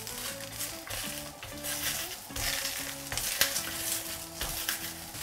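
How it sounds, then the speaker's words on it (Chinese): Chili peppers dry-frying slowly over medium-low heat in a large iron wok, with a steady close sizzle and crackle broken by repeated scraping stirs of the spatula, no talking. "中小火慢慢去煎它，把这个辣椒的香味自然给它煎出来。"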